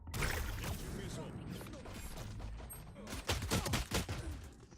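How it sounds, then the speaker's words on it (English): Missile launch in an online shooter, a loud whooshing blast with a burst of sharp explosive pops near the end over steady game noise, with a voice speaking. "Launching missile."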